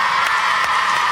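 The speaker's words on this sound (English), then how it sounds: "Come on, give them a round of applause." Studio audience claps and cheers for the winning team on a children's water game show, a dense, loud burst of applause with whoops throughout.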